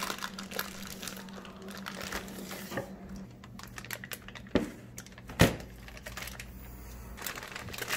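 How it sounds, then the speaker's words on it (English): Crinkling plastic bag being pulled off a NÜOBELL adjustable dumbbell, steady rustling and crackling throughout with a few sharper crunches and knocks near the middle, close and moderately loud with no speech. "Take it out of the plastic bag to get a closer look."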